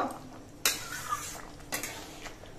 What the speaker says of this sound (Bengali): গরম মশলা গুঁড়ো দিয়ে নেড়ে চেড়ে মিশিয়ে নেব